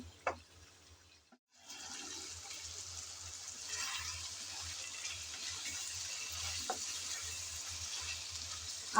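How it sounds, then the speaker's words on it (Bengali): Potato, carrot and papaya sautéing in a pan give a steady, moderate sizzle after a brief pause, with a couple of scraping stirs; close and unbroken, no voices. "আলু, গাজর, পেঁপে তিনটা সবজি দেওয়ার পর কিছুক্ষণ আমি ভালোভাবে নেড়ে চেড়ে কষিয়ে নিলাম"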